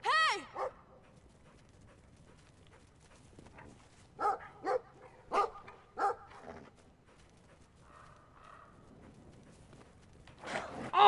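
A dog barks in the video game Brothers: a whiny yelp at the start, then about four sharp, fairly close barks in quick succession midway, another burst at the end, with quiet gaps between.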